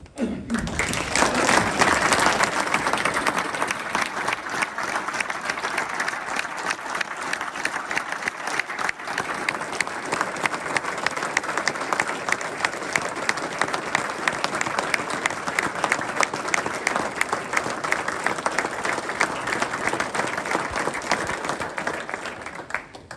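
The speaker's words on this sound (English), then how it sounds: "Please join me in applauding and recognizing this tremendous service to our community." An audience at a fire department gathering gives a retiring firefighter a long, steady round of applause, many hands clapping loudly and evenly for over twenty seconds with no talk over it.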